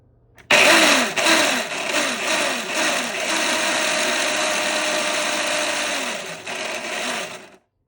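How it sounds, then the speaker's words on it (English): A food processor grinds curly dock seeds into flour, starting abruptly with a loud steady whirring drone and rhythmic grinding pulses early on, running for several seconds and then cutting off. "So we're gonna dump this into our food processor."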